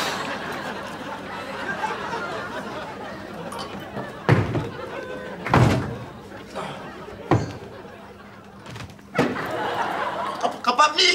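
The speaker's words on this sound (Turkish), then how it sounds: "Kapı kapanmıyor ki ya." A door that will not stay shut is banged several times in a row, sharp heavy thuds spaced a second or two apart, under steady overlapping chatter and some laughter in a Turkish sitcom scene.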